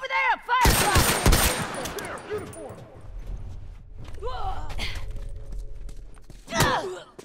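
Gunfire in the game Factions, a loud rapid volley of shots up front, then scattered bursts and a later sharp flurry, mixed with shouted voices and whizzing sounds.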